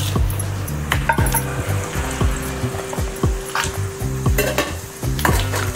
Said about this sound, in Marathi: खडा मसाला टाकत आहे।